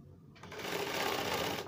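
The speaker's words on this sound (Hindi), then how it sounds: "कच्चा सिलाई मार लेंगे, इसको" Sewing machine stitching a coat sleeve during an alteration, starting quietly and then running at a steady, close, loud whir of rapid stitches for over a second without pause.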